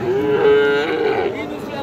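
A cow or calf moos loudly and close by at a cattle market selling young bulls and heifers, one drawn-out low call over a busy background murmur.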